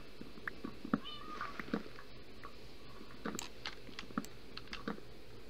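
A cat in the Minecraft video game gives several short meows in quick succession over a quiet background. Soft clicking from gameplay and keyboard runs under the calls.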